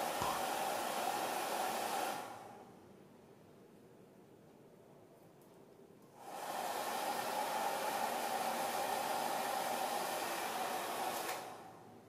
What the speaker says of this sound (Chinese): 当正常使用时，就像一般吹风机一样